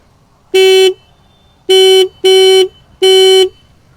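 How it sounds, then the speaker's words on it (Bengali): A Hero Xoom 160cc scooter horn beeps four times, loud and close, the first beep alone and then three in quick succession. "হর্ন আপনাদের হর্নটা একবার সাউন্ডটা শোনাবো"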